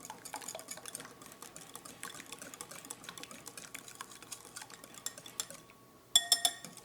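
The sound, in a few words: mixing eggs with cream and lemon zest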